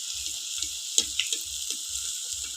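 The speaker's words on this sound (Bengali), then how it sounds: "এইভাবে ভেজে নেব।" Battered brinjal chops frying in hot oil give a steady, close sizzle with a bright crackling hiss, broken by a few sharper pops and regular low bumps, with no talking.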